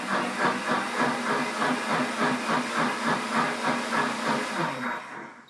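A deluxe cooking blender being cleaned hisses steadily with steam, a loud close rhythmic churning and pulsing whoosh that runs continuously and tapers slightly at the end, with no talking.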